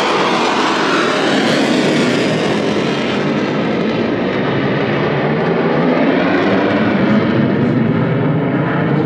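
Airplane flying overhead, a loud, steady broadband engine roar that fills the whole stretch without a break and with no voices.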